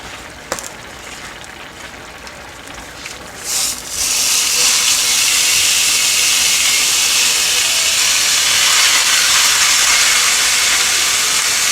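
A pound of hamburger and half a pound of sausage browning in a pan, starting with a few clanks before a loud, steady sizzling hiss takes over and continues without a break.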